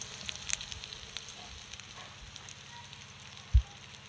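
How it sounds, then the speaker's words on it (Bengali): Asafoetida tempering hits hot white oil in a wok for a potato and cauliflower singara filling, giving a faint, steady sizzle with a soft clink near the start and a brief low knock later. "তেলটা গরম হয়ে গেছে, এবার আমি দিয়ে দেব হিং ফোড়ন।"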